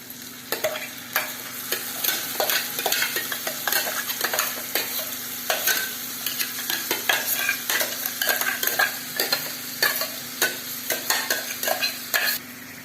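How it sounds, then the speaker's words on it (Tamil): Ground coriander paste frying in a pan for coriander leaf rice, with a steady sizzle under rapid, continuous spatula scraping and clinking, close and busy throughout without speech. "வதங்கினோன்னா அந்த அரைச்சதை ஊற்றிடலாம்."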